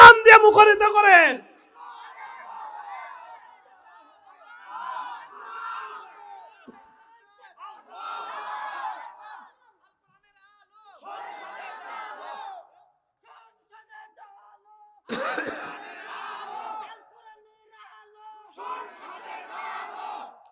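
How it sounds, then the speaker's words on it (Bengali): Crowd at an Islamic sermon (waz) chanting takbir slogans: bursts of massed voices rising and falling in repeated waves, one loud call at the start and another surge midway, with quieter gaps between. "যারা যারা কোরআন প্রেমিকদের সাথে আছেন, তাকবীর দিয়ে স্লোগান দিয়ে মুখরিত করেন।"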